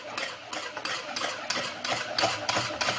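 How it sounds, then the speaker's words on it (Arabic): A flan caramel mixture being stirred in a pot until it dissolves, with rhythmic scraping strokes of a utensil roughly twice per second, close and clear, and no talking. "وغنخليه نخلطو مزيان باش يذوب ليا"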